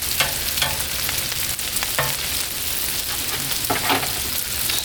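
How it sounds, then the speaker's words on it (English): Cheese being stirred on a Blackstone griddle, with a steady sizzle and scraping strokes of a spatula throughout, close and moderately loud, no talking. "Stir our cheeses."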